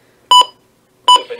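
Two loud electronic button beeps from a 2002-2003 Midland WR-300 weather radio, each a short bright tone, spaced about three quarters of a second apart with quiet between.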